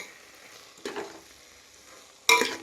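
A spoon scrapes and stirs through carrot halwa sizzling gently in a pan as dry fruits are mixed in, two distinct stirring strokes over a quiet, low fry.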